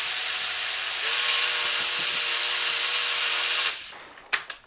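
An electric mixer whirs steadily, combining homemade Irish cream ingredients, a loud continuous motor drone with a faint whine that cuts off abruptly near the end, followed by a few light knocks.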